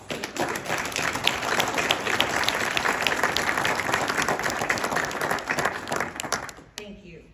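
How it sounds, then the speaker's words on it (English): A church congregation gives the Cooper family a steady, sustained round of applause, dense clapping filling the room for about six seconds before stopping abruptly. "So can we give a round of applause to the Cooper family?"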